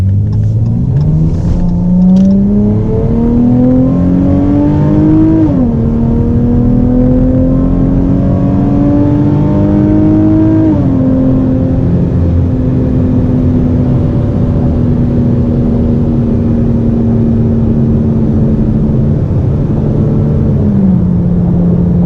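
A 2017 Dodge Challenger SXT Plus with an aftermarket performance exhaust revs and accelerates onto a freeway through several gear shifts, the exhaust droning loudly and steadily as it climbs to cruising speed.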